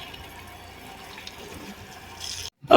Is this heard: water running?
yes